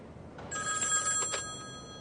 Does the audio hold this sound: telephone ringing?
yes